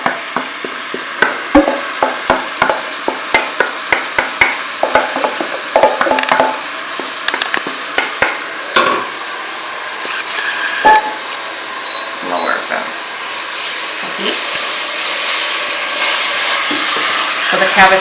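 Cabbage frying and being stirred in a pan with olive oil and garlic, with steady sizzling and irregular clanks of a utensil against the pan, all under continuous talk.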